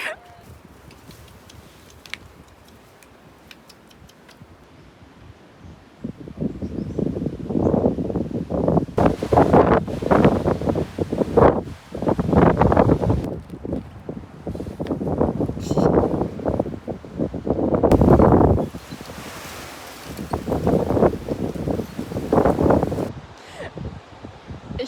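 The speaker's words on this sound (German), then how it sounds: "Ich hoffe mal, man hört mich mit den Wellen" Ocean waves wash in repeatedly on a beach at Wilsons Promontory, Australia, rising and falling in broad surges, mixed with wind buffeting the microphone.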